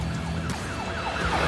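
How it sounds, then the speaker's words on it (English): A wailing police siren rising and falling repeatedly, heard at moderate distance over steady traffic rumble. "Sirens buzz in the back of my head"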